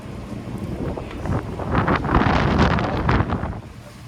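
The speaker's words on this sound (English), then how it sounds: "It's windy" Wind buffets the microphone in rough, rumbling gusts that swell and subside over a few seconds, loud and close with no voices, outdoors beside tall glass windows.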